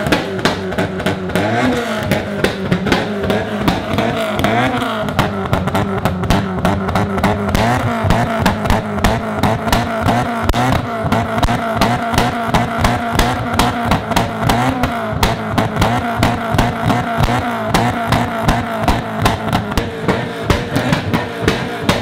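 Nissan R32 GTR exhaust popping and banging with flames as the engine is revved, a loud, dense run of rapid cracks over a steady rumbling idle, heard up close from behind the car.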